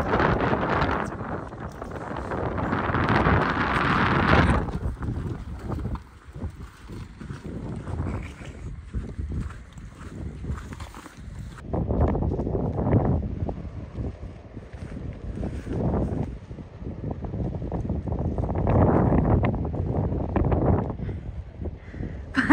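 Strong mountain wind in Upper Mustang roars and buffets the microphone in heavy gusts, swelling and easing repeatedly over about twenty seconds, loud and close throughout.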